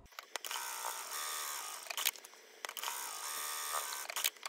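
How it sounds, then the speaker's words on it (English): Sewing machine stitching a backpack tote seam at a half-inch allowance, running in two sustained bursts of mechanical whirring, close and fairly loud, with short pauses between runs. "we're going to head over to the sewing machine and we are going to stitch this into place at a half of an inch seam allowance"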